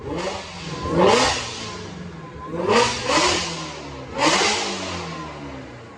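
A 2018 Ford Mustang GT350 with a Whipple supercharger revs on a dyno at Brenspeed, giving three loud rising bursts of engine roar separated by lower idle rumble.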